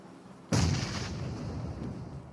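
A single loud grenade explosion in PUBG Mobile on the Sanhok map bursts suddenly, then its rumble rolls on and fades slowly, with no talk over it.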